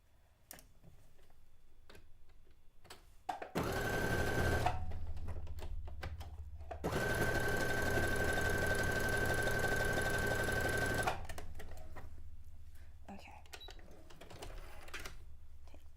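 Domestic sewing machine stitching fabric in two bursts, a short run then a longer steady whirring run, close and loud with quiet handling sounds between.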